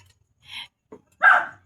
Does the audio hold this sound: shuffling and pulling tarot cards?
no